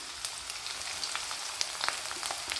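Chopped ginger and garlic frying in hot oil for a curry-leaf pepper chicken, a dense, even sizzle with faint crackles, close and steady throughout.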